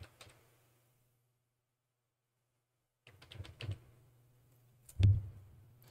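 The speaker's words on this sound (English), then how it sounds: "in this case, I'm going to be typing in" Computer keyboard keys tapped in a quiet room, a faint single click at the start, then after a long silence a short run of soft close taps and one louder keystroke.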